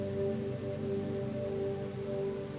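Steady rain falls continuously, a dense even hiss with no breaks and no voices.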